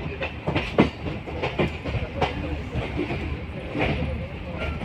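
A passenger train runs on the tracks between Delhi and Meerut near the Sahibabad outer: a steady, close rolling rumble with repeated clickety-clack wheel beats, heard from on board over about five seconds.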